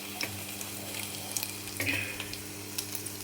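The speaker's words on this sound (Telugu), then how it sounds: "దీనిలో ఎండుమిర్చి ఫస్ట్ వేసుకుంటున్నానండి" Dry red chillies spit and crackle in hot oil as a tempering begins, a steady near sizzle with a few sharper pops, no voices.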